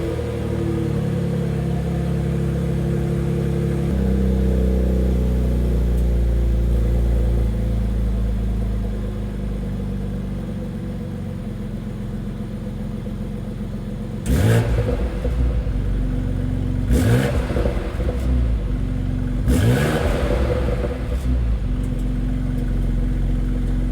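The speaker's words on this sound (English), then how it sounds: "I want to do an engine startup for you guys so you can hear what this beast sounds like" A 2021 BMW X4 M twin-turbo engine rumbles at a steady idle, then fires up into three sharp, loud revs that rise and drop back, with no talking.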